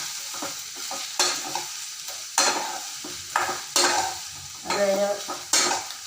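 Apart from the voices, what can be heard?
stirring onions frying in pan for chutney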